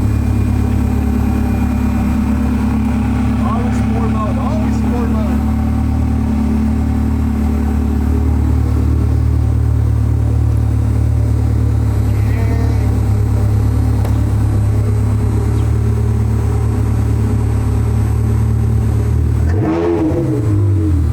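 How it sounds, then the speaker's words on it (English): A Ferrari F360 engine runs loud and steady for about twenty seconds, its tone swelling slightly, before a sharp rising rev near the end. "let's rev that engine for a little bit."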